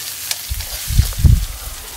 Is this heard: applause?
no